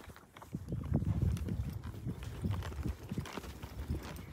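Hooves of horses being walked and moved around on a farm, a steady irregular clip-clop of several footfalls, moderately close and fairly soft, with no talk.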